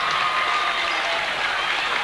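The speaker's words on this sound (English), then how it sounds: "They got the crowd going." Crowd at a boys varsity high school basketball game in Rutland, cheering and applauding in a steady, dense roar of clapping that fills the space without letup.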